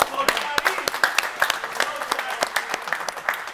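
A room full of people at a car dealership sales meeting gives a salesman a round of applause, dense steady clapping close by with a few whoops mixed in.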